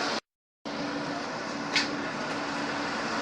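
Steady rumble and broadband hum of an R subway train running between stations in New York, continuous and moderately loud with a brief sharper squeal partway through and a short dropout near the start.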